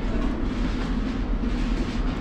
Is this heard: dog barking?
no